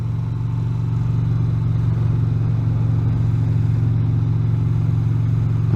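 A Yamaha XVS 950 Bolt cruiser motorcycle chugs along while being ridden, its V-twin engine giving a steady, low, lumpy drone with a rough, uneven pulse at a constant moderate loudness.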